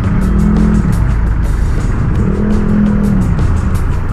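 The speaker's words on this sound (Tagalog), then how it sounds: "Bagong bago yung motor natin." A brand-new 2025 Honda ADV160 scooter being ridden on a hot day, its engine humming loud and steady with rising and falling revs as it moves along, no voices over it.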